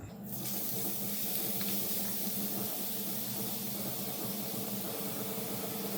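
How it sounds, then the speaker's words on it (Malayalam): Grated carrot sizzling in hot ghee for carrot halwa, a steady, even hiss that starts abruptly and holds without a break. "ഇനി നമുക്ക് ഈ നെയ്യിൽ കടത്തിയിട്ട് ഇതൊന്ന് മൂപ്പിച്ചെടുക്കണം കേട്ടോ"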